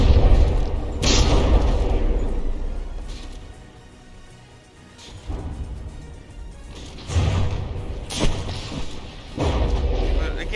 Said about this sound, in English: And it's got a shell coming for it.